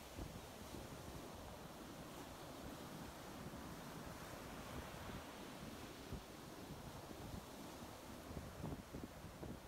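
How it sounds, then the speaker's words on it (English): Ocean waves wash continuously in a dense, steady roar of surf, with some wind-like noise across the whole stretch and no distinct breaking crashes standing out, faint overall. "Can you feel deep within the movement and sound of the ocean?"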